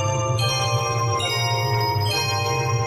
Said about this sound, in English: the last song we hear in the temple are chimes